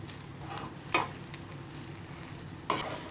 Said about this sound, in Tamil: கொஞ்சமாக புதினா இலை, கொஞ்சமாக வெங்காயத்தாள் எல்லாத்தையும் சேர்த்து ஒன்றா கலந்து விடுங்க